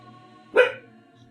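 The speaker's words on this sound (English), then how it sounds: "You hear the faint borks of a puppy who wants to steal the spotlight" A puppy gives one short, clear bark partway through, set against a faint background hum, with no talking.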